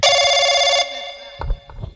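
A telephone bell rings loudly and close for under a second, then stops, followed by muffled thumps and movement in a tense police-station scene.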